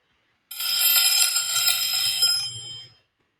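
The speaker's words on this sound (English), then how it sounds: "Once the timer goes off, though, we do need to continue" A classroom timer alarm goes off with a bright, continuous electronic ringing that lasts close to two and a half seconds and then stops, with a faint low rumble underneath.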